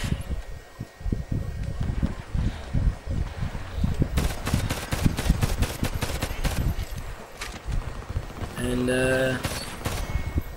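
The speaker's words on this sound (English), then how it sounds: "I dislike that shotgun because of just that right there." Shotgun and other gunfire in the first-person shooter video game Homefront, rapid booming shots in a dense burst amid battle noise, with a player talking over it.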